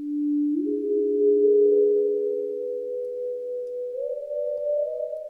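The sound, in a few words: popping synth sound with reverb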